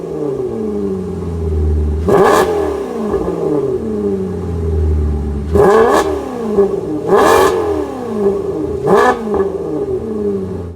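A Maserati Quattroporte M139 engine revs close by in four sharp throttle blips, each rising and then falling back to a steady idle burble, with no talking.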